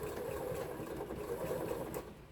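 A sewing machine stitches a quilt block seam with a 1/4 inch foot, giving a faint, steady mechanical whir with light rapid ticking throughout.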